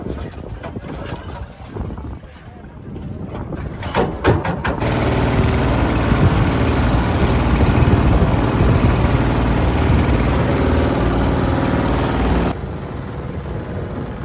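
A boat engine drones loudly and steadily on Rawa Pening lake, starting after a few seconds of windy, jostling noise and running under wind buffeting for most of the stretch.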